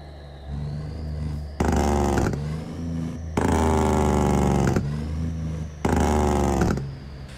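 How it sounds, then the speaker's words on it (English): Cummins NTC Big Cam truck engine in American Truck Simulator, loud, deep rattling engine-brake bursts in three long pulses, alternating with a quieter idle drone and a rising whine between them, with no talking. "get some engine braking on the exterior view"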